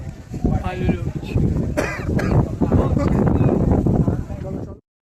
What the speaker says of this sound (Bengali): শুধু হাওয়া দিচ্ছে।